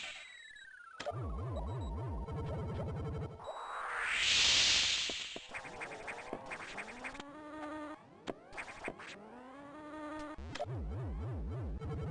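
Buzzing bee enemies drone and warble in Metroid Fusion, their wavering insect hum layered with chiptune effects, sweeping tones and a brief whooshing burst, continuous and fairly loud throughout.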